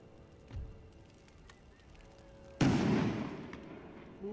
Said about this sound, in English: Ooh, shrapnel shot.